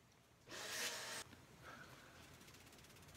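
A single loud abrasive scrape on styrofoam lasting under a second, followed by quieter rubbing and faint sanding scratches, close up and without talk.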